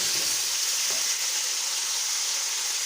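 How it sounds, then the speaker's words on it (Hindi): Chicken frying in a karahi until golden gives a loud, continuous, dense sizzle close up, with a faint stir or two near the start and no voices. "बस इसको थोड़ा सा और हम फ्राई करेंगे ताकि इसके अंदर एक गोल्डन सी लुक आ जाए।"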